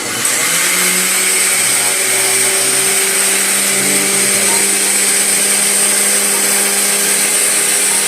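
A steady, loud motorized whir runs without a break, a high-pitched grinding hum like a kitchen mixer grinder spinning, with no voices.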